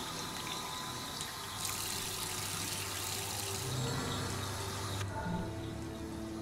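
Water runs steadily from a tap in a hidden-object video game, a continuous close hiss of flowing water that shifts slightly in tone partway through, with no talking.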